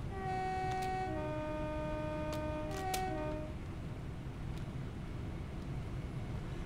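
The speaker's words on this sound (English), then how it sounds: "You may as well give him a good old honk." Class 375 electric train horn in the Train Simulator Classic game, Southeastern network, several two-tone blasts sounded in quick succession over a steady rolling cab rumble, fairly faint.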